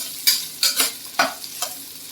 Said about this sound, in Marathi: कांदा पण आपल्याला छान परतून घ्यायचा आहे.